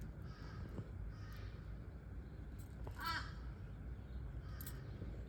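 Crows caw a few times at a moderate distance over a low steady rumble of background noise, with one louder call near the middle.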